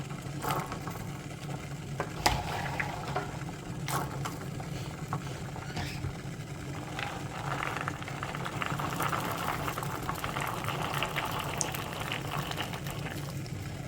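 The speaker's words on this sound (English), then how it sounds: "So you let those return to a rolling boil." A pot of water with peas comes back to a rolling boil, giving a quiet, continuous bubbling and gurgling with occasional louder pops, heard close and alone.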